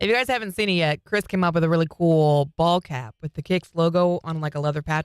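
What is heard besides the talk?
No everyday noise stands out behind the speech.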